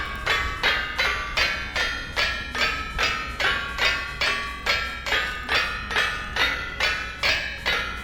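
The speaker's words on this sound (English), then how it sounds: "How fast is 4 health hammers smashing the shit out of a single anvil?" In the video game Vintage Story, four windmill-driven helve hammers strike a single anvil in a steady, fast rhythm of sharp metallic clanks, about two hits per second, with each blow ringing out loud and even.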